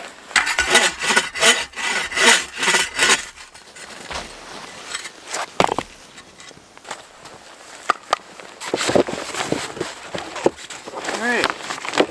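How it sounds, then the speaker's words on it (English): A long-bladed hand saw cuts through firewood at an extreme-cold winter camp, its rhythmic back-and-forth strokes loud and close for about three seconds, then scattered rubbing and scraping with occasional louder knocks. "cut straight with this saw, and I think it's because the blade's so long that it kind of wanders"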